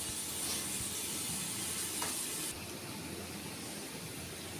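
Masala spice paste fries in a pan for a home-cooked fish curry, giving a continuous hissing sizzle that is loud at first and then drops to a softer, steady fizz halfway through.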